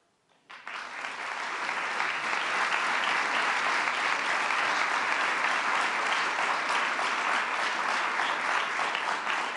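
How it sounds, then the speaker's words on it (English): An audience at an award ceremony bursts into applause after a short quiet moment, a loud, sustained wash of clapping that holds steady with no talk. "I wish they could be here to hear your applause"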